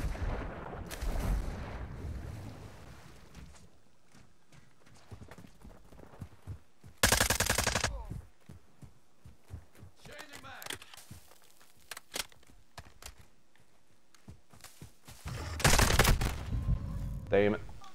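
M4 rifle fire in Call of Duty: Modern Warfare II multiplayer: loud bursts and single cracking shots in uneven clusters, with heavy full bursts near the start and the end and quieter gaps between, mixed with game effects.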